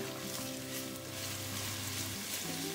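Whole oregano sautés in a pan, a steady even sizzle close by under a faint background hum, with no talking.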